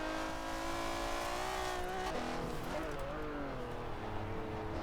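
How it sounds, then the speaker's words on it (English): Ford Puma in Forza Horizon 4 with a V12-style engine note, revving continuously and shifting pitch as it accelerates, loud and steady throughout. "I think there's kind of a generic V12 sound in this game,"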